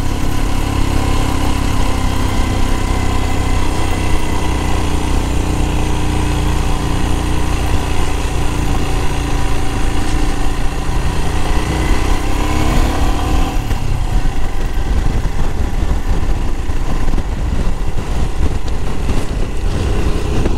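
A Royal Enfield Himalayan's low-powered single-cylinder engine chugging in first gear on a mountain pass, a loud steady thump that runs throughout and roughens toward the end.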